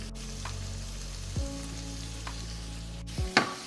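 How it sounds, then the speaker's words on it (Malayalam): Prawns sautéing in a pan on high flame with fresh basil, a steady close sizzle broken by a few clinks and scraping stirs, no voices. "നന്നായിട്ടൊന്ന് ഹൈ ഫ്ലെയിമിൽ വെച്ചിട്ടൊന്ന് പ്രോൺസ് കുക്കാവണ വരെ ഒന്ന് സോട്ട് ചെയ്യുക"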